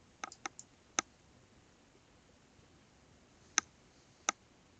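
Sharp mouse clicks on a computer, a quick cluster of several at the start then isolated single clicks spaced apart, crisp and close in an otherwise quiet room.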